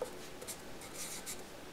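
A pen or pencil writing a math fraction by hand on paper, a soft faint scratching in short strokes, close up and without speech.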